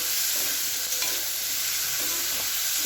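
Young jackfruit stir-fried with spices gives a steady, fairly loud sizzle, with a few scraping stirs of the spoon in the pan.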